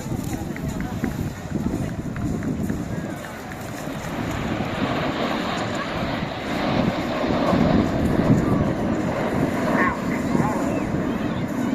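Red Arrows jets fly a display at the Eastbourne Airshow 2023, rolling in smoke. A broad, rising and falling jet roar fills the whole stretch, with a commentator talking over it.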